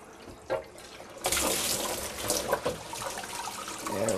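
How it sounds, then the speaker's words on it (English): Black-and-white film is pulled out of a water rinsing tank, sloshing and running water with splashy bursts, close and moderately loud, no talking. "what I'm going to do is I'm going to pull my film out of this rinsing tank."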